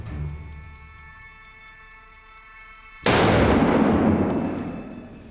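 Two rapid gunshots fired from the hip merge into what sounds like one sudden, loud report with a long rumbling tail, after a stretch of quieter background hum.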